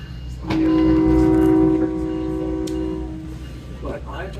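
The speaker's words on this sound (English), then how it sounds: "Now we're taking the train south through Petaluma" A passenger train rolls south through Petaluma, California with a steady rumble while a horn-like tone sounds briefly early on, then the ride continues under a low mechanical hum.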